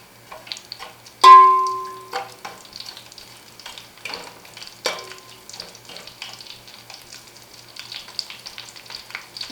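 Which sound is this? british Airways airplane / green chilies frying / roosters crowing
green chilies frying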